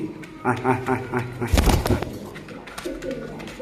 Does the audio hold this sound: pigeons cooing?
yes